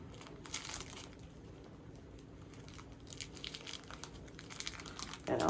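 A plastic wrapper on a Quaker Chewy chocolate chip cookie dough bar crinkles up close in steady, fairly quiet rustling, then a louder crackle at the end, with no talking.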